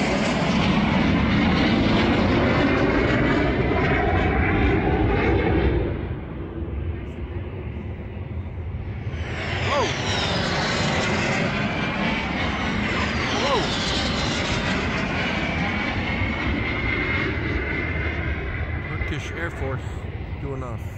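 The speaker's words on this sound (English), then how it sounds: "I think they're F-16s." F-16 fighter jets passing overhead above a sunny balcony in Antalya, Türkiye, a loud broad jet roar that fades and then swells again as more aircraft sweep by, fairly distant but strong throughout.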